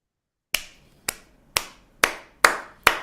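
A slow clap of appreciation at a poetry gathering: six separate, sharp hand claps spaced about half a second apart, growing slightly louder, alone against silence.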